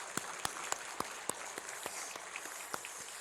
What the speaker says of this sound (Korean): 우리 하나님께 영광의 박수 한번 올려드리죠.